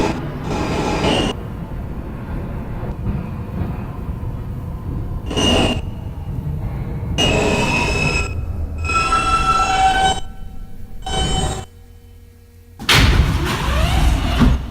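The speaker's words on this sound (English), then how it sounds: "This is a Manhattan-bound F express train." A Manhattan-bound F express subway train in New York runs on its rails with a heavy rolling rumble and wheel squeal. Louder clattering passages come and go, then the noise briefly drops and surges again.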